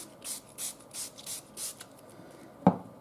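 Short hissing sprays from an aerosol paint can come in a steady rhythm of about six bursts, followed by a single sharp knock.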